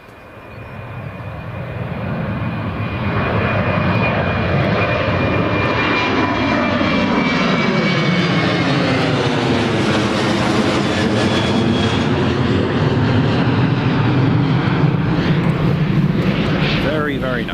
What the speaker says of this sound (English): here comes the Ryanair, rolling down the runway.